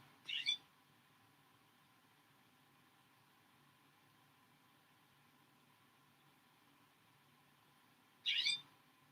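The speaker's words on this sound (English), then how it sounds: "You can hear the bird. Ah, there's a bird in the tree." A bird calling from a tree outdoors gives two short, bright calls, one at the very start and another near the end, faint against an otherwise quiet background.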